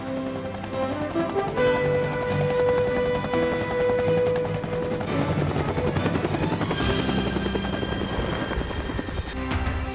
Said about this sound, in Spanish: Su característico sonido clop, clop, clop, clop dio origen a la denominación chopper